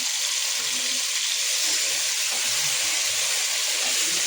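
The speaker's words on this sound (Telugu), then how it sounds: "ఇప్పుడు మనం మ్యారినేట్ చేసి ఉంచుకున్న చికెన్ కూడా యాడ్ చేసేస్తున్నాము." Marinated chicken hits fried onions for biryani in a pressure cooker, giving a continuous bright sizzle that stays steady and close the whole time without talking.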